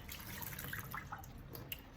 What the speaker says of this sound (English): let me pour the water off